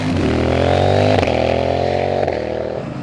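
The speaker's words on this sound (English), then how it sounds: "The quick shifter has a really good like bark and crackle to it." Loud CFMOTO 800 NK motorcycle engine revving close by, with sharp shifts in pitch as the quick shifter changes gears, giving a brief barking crackle.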